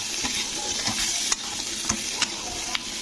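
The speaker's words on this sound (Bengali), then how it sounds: "তার জন্য আমি এটাকে কষে নিচ্ছি মাছের মাথাটাকে ওই মশলার মধ্যেই" Fried katla fish heads being stirred into spice masala in a pan produce a continuous close sizzle, with sharp spatula clacks and scrapes at irregular intervals and no voices.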